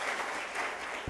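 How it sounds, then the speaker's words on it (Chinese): A church congregation at a Taiwanese Presbyterian Advent Sunday service claps to welcome visitors. The short burst of applause sounds dense and steady, fairly faint and distant, as if picked up in the hall. "我们一样鼓掌来欢迎他们"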